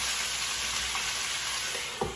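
Minced garlic fries in a pan with a steady soft hiss and light crackling, heard close and alone, with a small clatter near the end.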